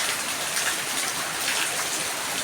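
Heavy monsoon-like downpour in a Konkan village, a loud, unbroken wash of raindrops drumming on surfaces, close and steady with no talk.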